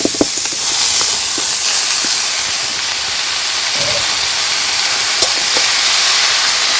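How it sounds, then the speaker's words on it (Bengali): Boiled banana flower sautéed in a pan with a little water for a prawn dish, giving a steady broad hiss and sizzle with occasional faint scraping stirs throughout. "ভালো করে কষিয়ে নেব"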